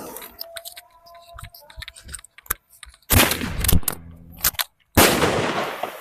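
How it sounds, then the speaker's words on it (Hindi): A 50 rupee sky shot Diwali firework is lit and goes off, with a fizzing, crackling lead-up followed by two loud, close bursts of sharp explosive crackle. "अब इस 50 रुपये स्काई शॉट में आग लगाते हैं।"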